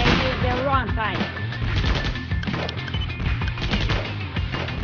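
Rapid bursts of machine gun fire rattle continuously in the video game War Heroes: Invasion, with other game sounds and a voice briefly mixed in.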